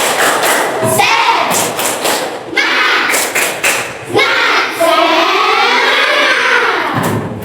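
A Grade 5 class performs the tepuk semangat clapping chant, bursts of rhythmic hand claps and thumps alternating with children's chanted voices, loud and close.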